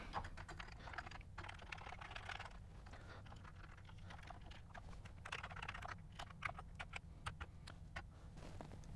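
Keys clatter steadily on a Commodore Amiga 600 keyboard during a keyboard test, a run of quick, close, fairly quiet clicks and taps with brief pauses, no talking.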